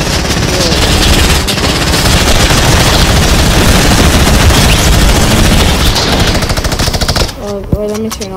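Dense automatic gunfire from a Fortnite Battle Royale match, a loud continuous rattle of rapid shots that runs for several seconds and then breaks off, with a voice briefly audible at the end.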